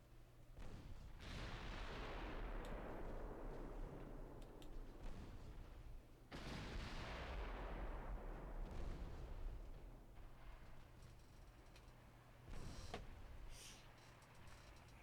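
Naval guns fire in a warship strategy game, a cruiser's 6-inch battery among them, sounding as heavy, booming salvos that open near 1 and 6 seconds. The rumble and the decaying echo of each salvo fill the clip, and another shot lands near 12.5 seconds.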